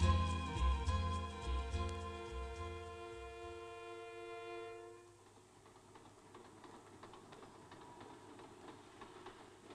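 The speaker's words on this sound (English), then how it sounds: "Views from a passing train" A train passes with a long, sustained horn blast and a rumble that fades, leaving quieter rolling rail noise behind.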